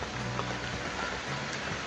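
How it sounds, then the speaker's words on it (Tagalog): Heavy rain pours down steadily outdoors near banana plants, a dense, constant hiss with no break and faint voices barely present beneath it. "Lakas ng ulan mga tol."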